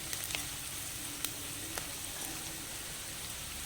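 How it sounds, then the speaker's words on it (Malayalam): Garlic, curry leaves and shallots fry in a pan for a Kerala-style fish curry base, giving a faint, even sizzle with scattered light pops and crackles close by. "വെളുത്തുള്ളി മൂന്നാലല്ലി അല്ലി മതി കറിവേപ്പില കൊച്ചുള്ളി ഇതൊക്കെ കൂടി ഇതൊന്ന് മൂത്ത് വരട്ടെ"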